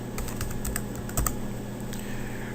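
Keys clatter on a computer keyboard as a word is typed into a spreadsheet cell, a short burst of light, irregular clicks close up against a quiet background.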